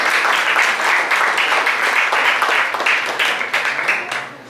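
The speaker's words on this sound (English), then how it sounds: "Give your friends another big round of applause" Crowd applause at a university homecoming event, a dense steady wash of many hands clapping that holds loud and even throughout before tapering slightly at the end.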